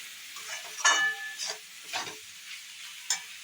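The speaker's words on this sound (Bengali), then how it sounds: "এটা আবার একবার নেড়ে দেবো, যাতে হলুদটা এর মধ্যে মিশে যায়।" A spoon scrapes and stirs semolina with turmeric in a pan, several separate short scraping strokes over a faint background hiss, close but quiet, with no talking.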